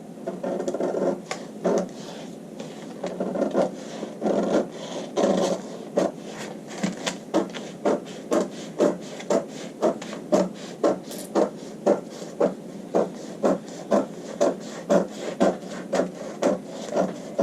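Scissors cutting out a paper sleeve pattern piece, a steady run of crisp snipping and crunching strokes close by, settling into an even rhythmic pulse about twice per second.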